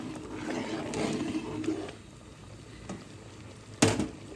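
Pot of white pulao cooking liquid with chicken-frying oil added, coming up to a boil with low rumbling bubbling, faint and uneven, and a sharp clatter near the end.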